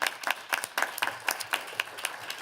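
An audience at a health policy program gives a short burst of scattered hand clapping, sparse and fairly light, a few separate claps spaced irregularly.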